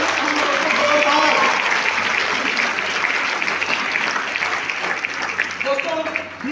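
Audience applause fills the room for a team and business partners at a success-story gathering in Raipur, a steady, dense clapping that stays loud throughout.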